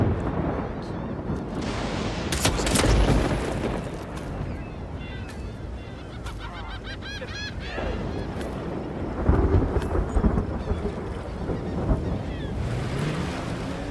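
Thunderstorm in the video game Yakuza 0: a steady roar of rain and wind fills the scene, with gusty swells and a few sharp bursts, and voices speak over it.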